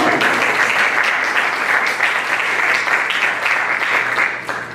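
An audience at a civic fellows symposium breaks into dense, steady applause that holds at full strength and tapers slightly at the very end.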